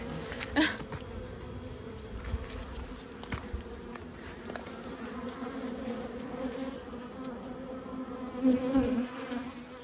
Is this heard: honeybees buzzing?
yes